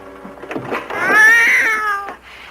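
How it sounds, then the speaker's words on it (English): A tabby cat gives one drawn-out, clear meow that rises and falls, loud and close, preceded by a few soft short sounds, in a 1958 film scene. "It's only a tabby."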